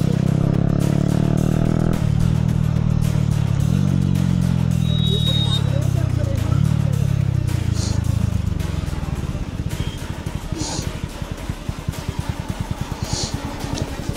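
A motorcycle engine runs close by at a college festival, a harmonic drone that shifts pitch as the bike moves in, then settles into a rougher idle-like putter while voices chatter around it.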